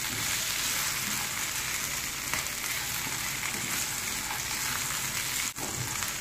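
Chopped potatoes fry in a pan on a low-medium flame, giving a dense, even sizzle that holds steady throughout with one brief dip near the end, no voices.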